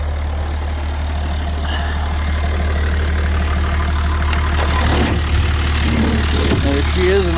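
A 1986 Perkins turbo diesel engine idles in a 4x4 truck, a steady low, throbbing rumble close by with knocking texture, while someone talks over it.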